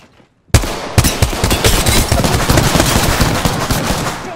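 In Apex Legends gameplay, loud, near automatic gunfire erupts after a short silence and keeps going in a rapid, dense burst of shots for several seconds.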